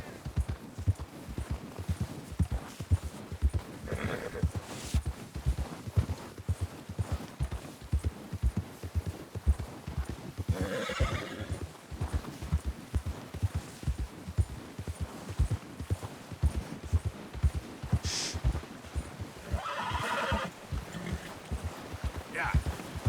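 A horse walks through the cold in Red Dead Redemption 2, its hooves clopping in an even, close rhythm, with a few short breathy bursts.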